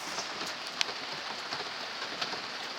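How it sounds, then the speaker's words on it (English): Rain patters steadily on a teepee covered in plastic sheeting, a continuous hiss of drops with occasional sharper taps, close and even throughout. "It's raining out."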